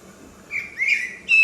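Recorded blackbird song plays back in clear, fluting whistled phrases that rise in two or three bursts, the last one loudest, with no talk over it.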